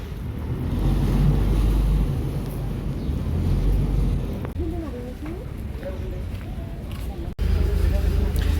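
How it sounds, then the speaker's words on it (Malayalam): A boat ride across the water at Kochi toward an island, with a steady rush of wind, water and engine noise throughout and people talking briefly over it. "നമ്മൾ ബോട്ടിൽ കയറി ഗൈസ്."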